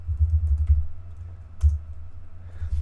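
Terraform command being typed on a computer keyboard, a steady run of soft key clicks with a couple of louder strikes, close and alone with no talking.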